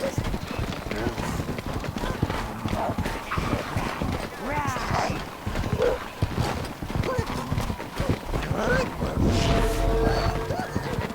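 A horse gallops with quick rhythmic hoofbeats in Overlord II, heard close and steady while a voice talks over much of it.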